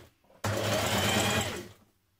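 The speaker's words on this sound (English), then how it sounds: "So we're just doing a small hem all the way around the bottom." A sewing machine runs steadily for just over a second while stitching a small curved hem on a woman's shirt, starting abruptly and stopping cleanly, close and alone in a quiet room.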